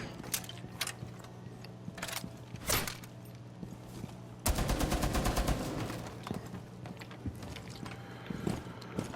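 Rapid automatic gunfire in a tactical shooter, shooting down through a floor on the map Outback, a dense burst of close shots in the middle between scattered single shots and mechanical clicks.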